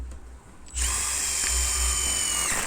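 A Makita TD172D impact driver spins up from quiet into a steady, loud, high-pitched whine as it drives a screw, with a low rhythmic hammering pulse underneath that holds for about two seconds.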